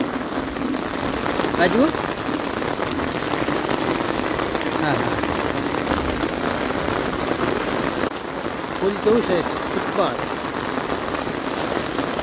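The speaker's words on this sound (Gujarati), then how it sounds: "વરસાદ ફૂલ આવી ગયો જો, અહીંયા પાણી કેટલું ચાલે થોડી વારમાં" Heavy rain pours down in Banaskantha, a steady, dense hiss of drops hitting the ground that runs unbroken throughout, with a voice speaking over it now and then.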